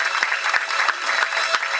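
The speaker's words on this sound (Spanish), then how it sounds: "Hago aplauso al Señor en esta tarde." A church congregation applauds together in a short spell of rhythmic, fairly loud clapping with regular accented beats.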